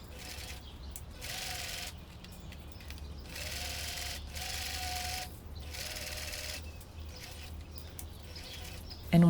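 A sewing machine runs in several short, whirring bursts while stitching the darts on a mini skirt, each run separated by brief pauses, close and moderately loud with no talking.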